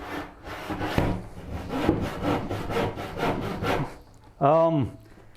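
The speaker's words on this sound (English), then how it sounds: "Yankee_Axe said, bro, rip sawing is no joke, LOL." Rhythmic back-and-forth strokes of a handsaw rip sawing along the grain of wood, steady and close, followed by a brief whining squeal.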